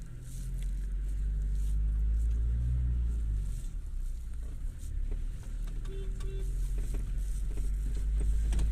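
Police car driven slowly, a low steady engine rumble with faint creaks and rattles, close and continuous, no talk.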